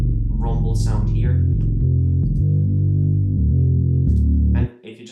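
Electric guitar with heavy distortion and an EQ set for a low rumble, playing thick sustained chords for about five seconds with a dense low end, then cutting off abruptly at the end.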